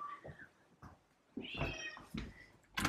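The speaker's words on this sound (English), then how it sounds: "oh, I hear my cat." Indoors among houseplants, a cat meows several times, a few short calls and then a longer, louder drawn-out meow, close by, with quiet gaps between them.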